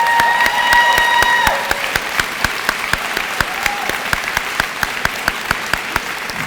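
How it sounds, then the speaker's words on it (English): A nursing pinning ceremony audience applauds graduates, with a thick round of clapping and some cheering that thins into scattered individual claps continuing to the end. "please stand so we can give you a hand clap of praise."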